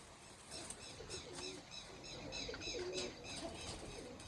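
Fauji Dhamot pigeons coo in a steady run of repeated throaty calls, close and fairly clear, with faint flutters and chirps around them and no talk.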